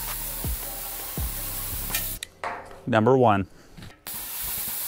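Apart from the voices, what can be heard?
plasma cutter cutting holes in steel washer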